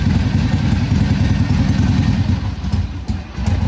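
A 1981 Harley-Davidson Ironhead Sportster XLH engine with the choke turned down, running loud and steady with a low, lumpy beat, dipping briefly near the end.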